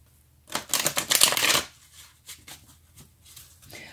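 Tarot cards being shuffled, a close, crisp burst of riffling for about a second, then softer scattered card handling and faint rustles.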